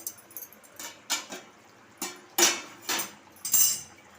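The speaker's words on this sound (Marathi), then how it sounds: "तर आता झाकण काढत आहे" A metal lid lifted off a cooking pot of potatoes simmering in a Konkani-style dried fish and tendli curry, giving a series of light metallic clinks and scrapes, close and clear with short pauses between them.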